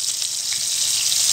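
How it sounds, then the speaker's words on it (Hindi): Chicken pieces for chicken tikka hit hot cooking oil, giving a loud, steady, close hiss of frying that fills the whole moment without pause. "तो ऑयल यहाँ पे गर्म हो चुका है, अब स्टेप बाय स्टेप हम इसमें ऐड करेंगे अपने चिकन पीसेस।"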